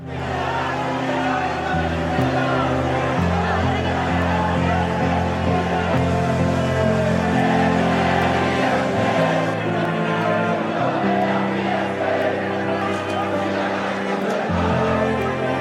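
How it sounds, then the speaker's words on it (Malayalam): A huge crowd roars and chants slogans in heavy rain as V. S.'s body arrives at the Krishna Pillai memorial, a loud, continuous wall of massed voices with rising shouted chants. "ആൾക്കൂട്ടം ആർത്തിരമ്പി."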